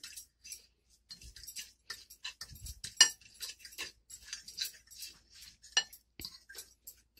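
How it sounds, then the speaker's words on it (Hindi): Spices with half a teaspoon of garlic powder and some ginger powder stirred in a bowl, heard as close, quick clinks and scrapes of a spoon against the dish in uneven bursts. "हाफ टी स्पून ही मैं इसमें गार्लिक का पाउडर यूज़ करूंगी इसको अच्छी तरह से मिक्स कर लेंगे हम"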